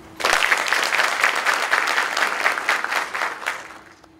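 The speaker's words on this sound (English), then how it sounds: "Please join me in a round of applause for a job well done." A round of applause at an Army 92 Alpha class graduation ceremony at Fort Lee, Virginia, honoring the platoon sergeant: dense clapping starts sharply, holds strong for about three seconds, then tapers off.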